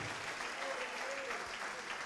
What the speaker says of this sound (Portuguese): Vamos aplaudir ao nosso Senhor Jesus Cristo.